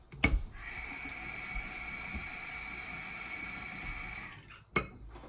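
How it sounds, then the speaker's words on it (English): Water runs from a tap into a bowl in a steady, faint stream lasting a few seconds, framed by soft clicks as the tap turns on and off. "now I'm going to take my bowl and just add a little bit of water to it"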